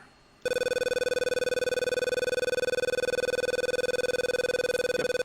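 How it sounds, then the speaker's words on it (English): The radar warning receiver in an F-16C in the Falcon BMS flight simulator runs its test and emits a steady, bright electronic tone that pulses rapidly. It starts abruptly after a quiet moment and stays loud and continuous. "Let's go ahead and test the RWR."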